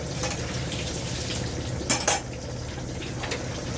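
Garlic sizzles in hot cooking oil in a wok-style pan for a Filipino sautéed chayote and ground meat dish, a soft steady frying hiss broken by a couple of metal utensil clinks.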